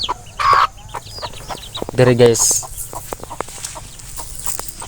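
Chickens cluck and squawk nearby in short bursts, with a brief louder call midway, while someone talks over them.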